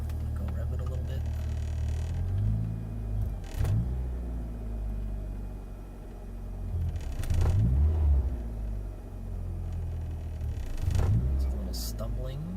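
A 1998 Mitsubishi Eclipse GST with 650 cc injectors on a base tune revs in several throttle blips that stumble rather than climb cleanly, over a low idle rumble, with people talking nearby.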